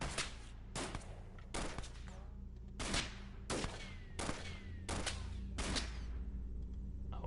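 Repeated gunfire bursts in The Xcom Files video game, about seven loud volleys spaced roughly a second apart over a steady low background rumble.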